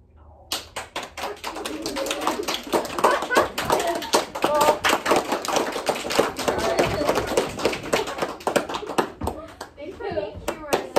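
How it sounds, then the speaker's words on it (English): Children clap their hands repeatedly in a classroom, keeping time through a sung round of "If You're Happy and You Know It," with sharp claps running steadily under the singing voices. "If you're happy and you know it, clap your hands."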